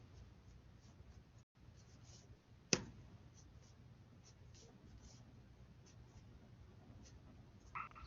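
Faint pencil scratching from a 7mm mechanical pencil lettering on paper, soft intermittent strokes and light taps over a quiet room hum, with one sharp click partway through.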